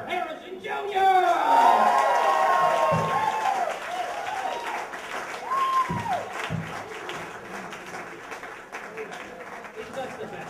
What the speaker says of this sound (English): please give a warm welcome of applause to the Right Honorable Mayor Carter Harrison